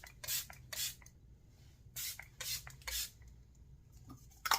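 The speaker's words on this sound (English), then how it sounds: "as I always do when I put spray on" A very fine but forceful mister of makeup setting spray is pumped onto a face in several quick hissing bursts, close but soft, with quiet gaps between the sprays.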